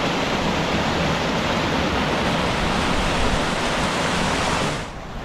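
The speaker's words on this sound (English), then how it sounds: "The waterfalls are in full flow today." Lake District waterfalls in full flow roar as a dense, steady wash of rushing water that drops away slightly at the very end.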